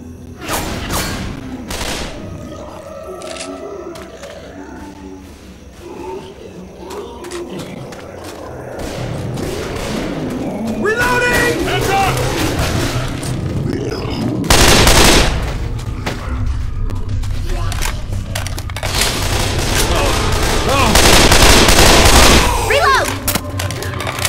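Rifle gunfire in the zombie shooter Left 4 Dead 2, with repeated sharp shot bursts and dense game effects building over the clip, mostly loud and close, with a voice talking under the action.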